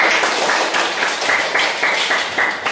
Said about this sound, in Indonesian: tepuk tangan semangat dulu